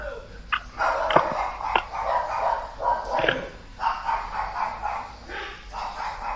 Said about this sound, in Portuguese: O cachorrinho é seu, pastor?